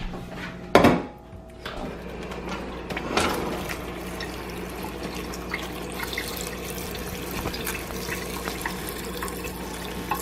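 Tap water pours into a pot of pumpkin pieces being covered for boiling, a splashing burst at the start and again near three seconds, then a softer, steady filling rush.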